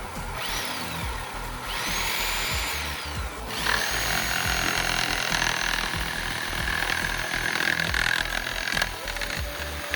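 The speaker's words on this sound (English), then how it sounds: "Like this chainsaw," A loud chainsaw whines and runs steadily on generator power, with rising and falling motor pitch as several machines churn together over a constant mechanical din.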